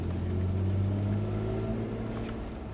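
A BMW M3 E46 with SMG gearbox pulls away in second gear on a downhill road, a steady low engine drone with a firm tonal hum, rising only slightly as it accelerates, heard from inside the car.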